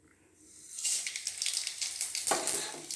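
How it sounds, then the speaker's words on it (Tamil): Mustard seeds, asafoetida and dried chillies are tempered in hot oil. A sudden hiss of sizzling bursts in after a quiet start, then keeps crackling and spluttering at close range, with no voices. "கடுகு, பெருங்காயம், வரமிளகாய் இதை தாளித்து கொட்டணும்."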